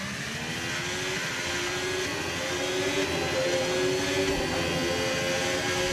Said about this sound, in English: Oh, my car is suffering in first gear.